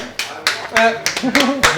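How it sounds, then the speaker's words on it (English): A few sharp, scattered handclaps at a pub games night greet the winners of a round. The small ripple of applause is close and loud, and people talk over it. "little round of applause"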